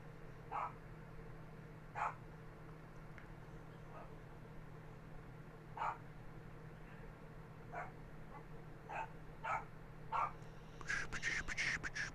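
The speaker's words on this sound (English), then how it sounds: "Old Amber's barking." An old dog barks from some distance, single faint woofs spaced a second or two apart over a low steady hum, with a denser cluster of barks near the end.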